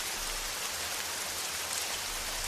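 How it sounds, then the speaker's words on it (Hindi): Steady rain falls on a surface as an even, continuous hiss of drops, moderately quiet and unbroken, with no voices. "लेंचो बाहर गया ताकि बारिश की बूंदें अपने बदन पर महसूस कर सके।"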